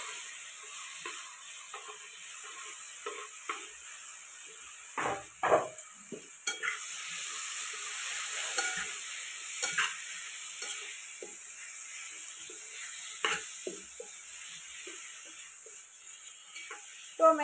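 Tomatoes go into a hot spice tempering in a pan for a quick tomato chutney, giving a continuous sizzle with repeated scraping and stirring clinks of a spoon, close and fairly loud.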